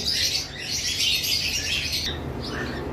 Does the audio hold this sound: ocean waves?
no